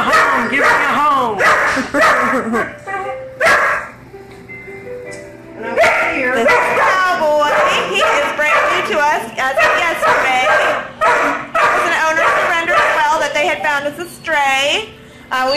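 A dog at an animal shelter barks, yips and whines almost continuously in loud, close, high-pitched bursts, with a short pause near the middle, while a person talks over it.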